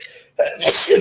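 A single sharp sneeze bursts out loudly and close after a brief pause, following a short spoken word.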